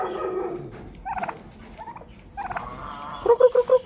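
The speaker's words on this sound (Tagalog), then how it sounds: "Yung mga pabo natin malalaki na." Large farm turkeys gobble in several short bursts close by, the final run of rapid gobbles loudest, with some quieter animal noises between calls.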